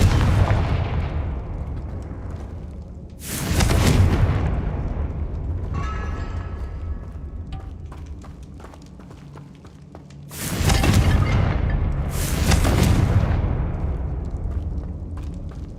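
Confringo fire spells explode in Hogwarts Legacy on PS5, several heavy booming blasts in two bursts of paired explosions, each followed by rumbling crackle, loud and close.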